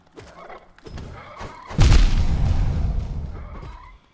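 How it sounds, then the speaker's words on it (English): A loud, deep explosion from the video game Hollow Knight booms out partway through, followed by a rumbling decay over quieter game sounds. "that explosion sounds so loud"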